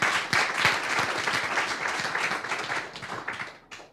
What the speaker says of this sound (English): can you give a round of applause for Isabelle?